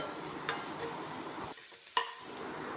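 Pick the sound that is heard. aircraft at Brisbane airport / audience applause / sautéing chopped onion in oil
sautéing chopped onion in oil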